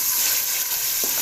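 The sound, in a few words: minced meat frying in ghee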